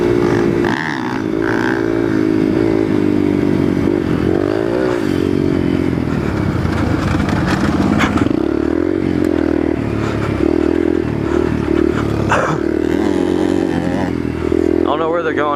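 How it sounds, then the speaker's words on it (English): A Yamaha TTR 125 dirt bike revs loud and close on a trail, its engine rising and falling continuously as the rider pulls wheelies, with clattering and scraping mixed in and voices talking over it. "I guess I'll just do some wheelies in the meantime."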